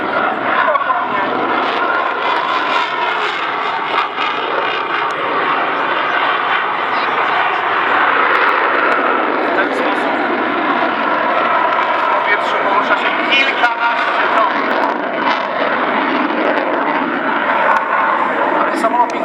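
A MiG-29 Fulcrum jet fighter performs at the 2017 Radom air show in Poland, its engine producing a loud, steady roar that fills the whole stretch without letup.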